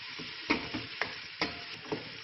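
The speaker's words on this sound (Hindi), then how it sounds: "अब इसमें हम शामिल करेंगे गाजरें जो हमने ली थी। इनको अच्छे से हमने फ्राई कर लेना है।" Carrots frying in a pan for chicken egg fried rice, a close, steady sizzle broken by about five sharp stirring scrapes at even intervals.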